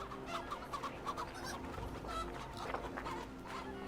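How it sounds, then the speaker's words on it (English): Chickens in Assassin's Creed Valhalla cluck repeatedly in short, fairly close bursts over a steady low game ambience, with no voices. "Trying to catch chickens."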